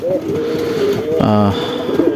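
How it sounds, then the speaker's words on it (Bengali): A close pigeon gives a low, throaty coo over a droning background, with faint talk around it. "ওই যে দেখতে পাচ্তেছেন একটা কবুতর"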